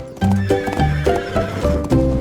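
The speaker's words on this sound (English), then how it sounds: "horses trotted slowly past" Cartoon horses neigh and whinny over clip-clopping hooves inside a children's farm-animal song, with bright harmonic calls repeating in short bursts against a steady musical backing.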